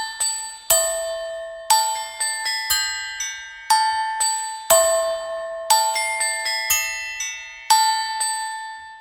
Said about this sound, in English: I started off with the Javanese saron, and we got the auxiliary percussion and the kongwong lek